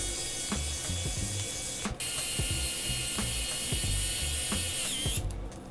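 Small Phillips head screw being driven out of a compact cinewhoop drone frame, heard as a close, quick series of ratcheting clicks and mechanical ticks with a brief pause partway through, no voices.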